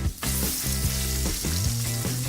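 Chicken frying to order in a deep fryer, a dense steady sizzle and crackle of hot oil with faint rhythmic clinks, heard up close and without talk.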